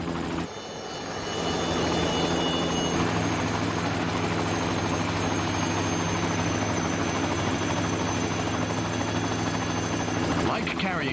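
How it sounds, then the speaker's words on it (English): A fleet of three Aérospatiale Llama helicopters flies over a tower construction site for the Ngong Ping 360 cable car in Hong Kong, a loud, steady rotor and turbine roar that holds for the whole stretch after a brief quieter start. "A fleet of 3 Llama helicopters take to the air."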